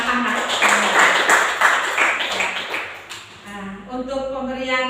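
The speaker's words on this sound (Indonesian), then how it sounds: "Ibu ucapkan terima kasih dan tepuk tangan dulu untuk anak-anak." Classroom applause for the children, a burst of clapping and tapping that starts loud, then fades after about three seconds into a voice talking over a quieter tail.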